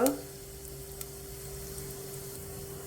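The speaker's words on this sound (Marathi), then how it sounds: "तेल गरम झालं की जिरं घाला, थोडंसं हिंग" Cumin and asafoetida hit hot oil with a brief sharp burst, then settle into a soft, steady sizzle with a faint constant hum underneath, with no voices over it.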